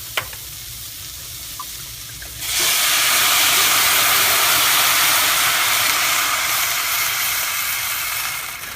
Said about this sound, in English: we're going to deglaze our pan a little bit with some wonderful,